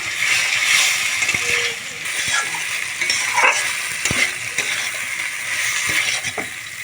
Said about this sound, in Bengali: ভেজে রাখা বড়াগুলো মশলার মধ্যে দিয়ে দেবো। একটু ভালো করে কষিয়ে নেব।